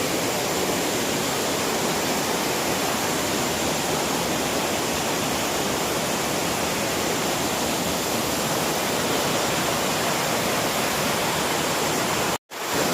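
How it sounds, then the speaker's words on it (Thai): Steady, loud rush of a waterfall at Mae Kampong, Thailand, in the rainy season, with rain falling, a dense unbroken roar that holds for the whole stretch before a brief dropout near the end. "ฟังเสียงน้ำตกครับ"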